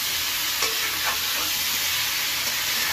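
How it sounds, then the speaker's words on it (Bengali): Small potatoes being stirred in a cooking pan, heard as a steady hiss of frying with a few faint scrapes and clinks of stirring, fairly close and without voices. "1 সেকেন্ড একটু উপর নিচে নাড়াচাড়া করে নিই।"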